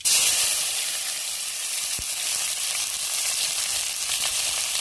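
Onion, tomato and green chilli dropped into hot oil for sambar, a loud, steady, close sizzle of frying that continues unbroken without any voices.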